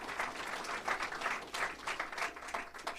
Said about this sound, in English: shamelessly fishing for applause